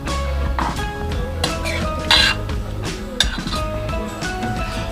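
A spoon clinks against a pressure cooker while stirring egg biryani with ghee, giving scattered metallic taps and scrapes over steady background music.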